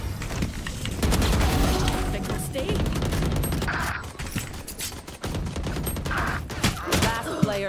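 Gunfire in the video game Valorant: rapid volleys and heavy booms in dense bursts, loud and close, with gaps and scattered single shots toward the end.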